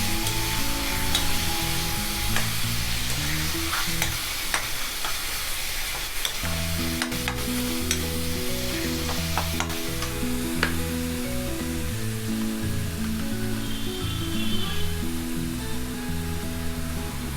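Chicken being fried for chicken lasagna on high flame, a loud steady sizzle with repeated scraping and clinking of a spoon stirring through the pan, close up throughout.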